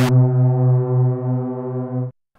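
Roland Jupiter 6 analog synthesizer in unison mode, one loud, thick, sustained low note with slow wavering detune beating, held for about two seconds before cutting off abruptly, alone without talk.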